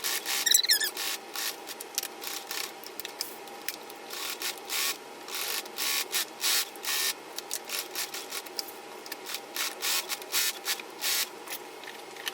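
A sewing machine stitches a boxing strip onto a pillow in short, quick bursts of rapid mechanical chatter, stopping and starting repeatedly with brief pauses between runs, fairly close and moderately quiet.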